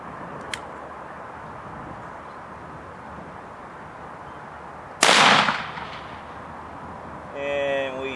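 A single loud 350 Legend rifle shot cracks out at a denim-covered target about 50 yards away at about five seconds, then decays over steady outdoor background noise, followed by a brief faint mechanical whine.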